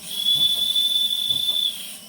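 A steam whistle on a coal-fired live steam LGB Mallet garden-railway locomotive gives one steady, shrill blast of about a second and a half over a constant background hiss of escaping steam.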